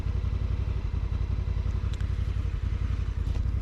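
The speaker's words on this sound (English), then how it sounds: "The bike starts up." A motorcycle engine running close by at a steady idle, a continuous low rumble with a faint clattering texture and no pauses.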